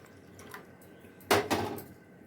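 Water is poured into rice flour for podo pitha in a pan, a single short splash and slosh that rises suddenly and fades within half a second, with quiet kitchen background around it.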